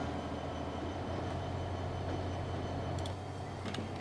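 A train rolls steadily along in the video game Transport Fever 2, a continuous low rumble with a faint high click or squeal now and then.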